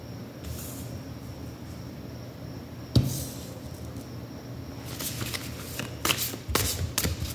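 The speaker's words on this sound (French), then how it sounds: "Je vais juste monter un petit peu les cartes." Tarot cards are handled and shuffled for a reading, with a soft continuous riffling and a sharp tap partway through, then denser crisp card flicks toward the end, close and fairly quiet.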